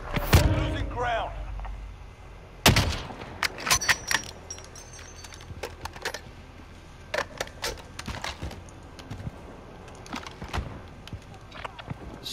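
Gunfire in the video game Call of Duty: Modern Warfare, scattered sharp shots and bursts at varying distances, some loud and close, others faint, amid clinks and a few quick voice calls.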